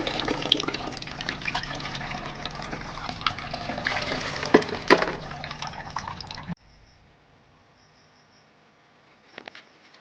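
Homemade liquid organic fertiliser strained and poured for plants: a continuous trickle and splash for several seconds, then near silence broken by a brief last drip-and-pour.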